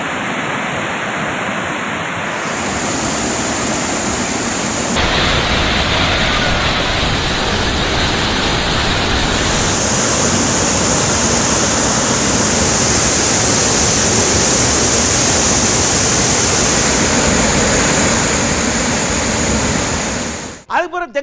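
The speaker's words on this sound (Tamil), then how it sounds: "ஒகேனக்கல்லையும் பயங்கரமாக தண்ணி வருது" Heavy water gushing at Hogenakkal falls, a loud, steady broadband roar of high-volume flow that holds continuously and close throughout, with no voices over it.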